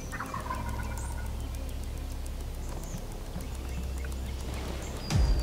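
Wild turkeys gobbling in the woods during a turkey hunt: repeated, fairly distant gobbles over a quiet outdoor background, followed by a sudden close thump at the end.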